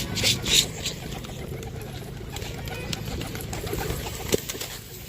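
Pigeons coo and scuffle inside a loft cage, with fluttering wings and soft scratching amid close, steady cooing and a sharp knock near the end.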